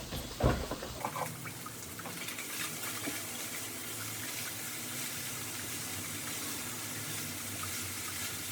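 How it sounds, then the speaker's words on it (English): Steady running water from a tap rinsing chickpea pasta in a sink, a brief louder splash at the start settling into a continuous, even flow. "I always rinse, like, the chickpea pasta or edamame pasta or whatever"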